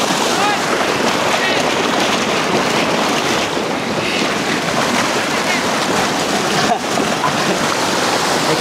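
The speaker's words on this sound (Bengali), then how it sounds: "আপনাদেরকে আমি দেখাচ্ছি চট্টগ্রামের নাপিত্তাছড়া ঝর্ণা" Napittachora waterfall on a forest trail in Chittagong pours with a steady, loud, broadband rush of falling water that fills the scene without a break, close to the listener.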